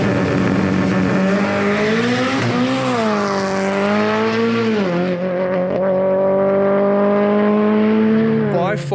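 A modified Audi S3 drives hard on a race track, its engine note rising and falling through gear changes with a strong, continuous tone held loud and close for several seconds.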